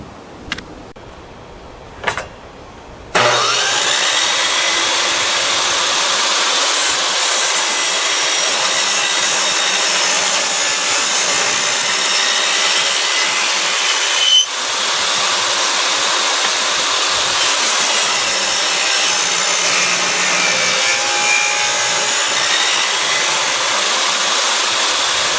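Power saw cutting wood for a casement window screen: a brief faint knock or two, then the saw starts and runs loud and steady for over twenty seconds, with a short dip partway through as the blade works the piece.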